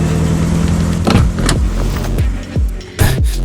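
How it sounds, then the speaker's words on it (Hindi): A car slowing down and pulling up to a stop, close by and loud: engine rumble and tire noise with several descending whooshes and a brief surge near the end, with no voices. "हे, गाड़ी रोको जरा।"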